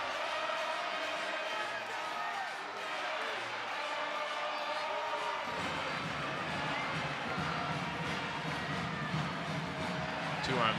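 Stadium crowd at Q2 in Austin rising behind the goal during an FC Dallas at Austin FC soccer match before halftime, a broad sustained roar of cheering that swells partway through, with a commentator talking over it.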